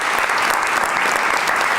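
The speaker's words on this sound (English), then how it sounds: "give them a round of applause for their courage" An audience claps in a steady, dense burst of applause, loud and continuous from start to finish with no pauses.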